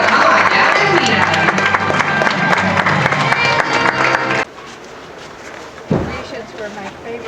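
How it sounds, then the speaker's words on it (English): Loud applause and cheering from a horse show crowd fill the first four and a half seconds, then drop away to quieter ambient noise with a brief low thump near the end. "Let's give them all one more big round of applause."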